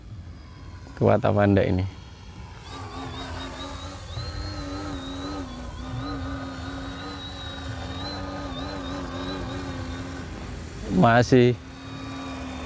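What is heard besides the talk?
RC trainer plane Mini Ugly Stick flying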